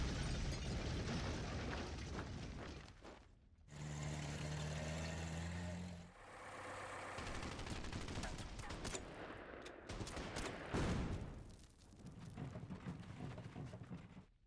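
Artillery fire and explosions from the strategy video game Order of Battle, set in the fall of Poland: dense, loud booming blasts and rattling bursts of gunfire follow one another almost continuously, with brief drops between salvos.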